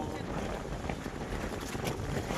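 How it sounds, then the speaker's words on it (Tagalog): Strong northeast monsoon wind roars steadily across the microphone in a dense, continuous rush, loud and close, with no voices standing out. "malakas na naman yung hangin ng amihan"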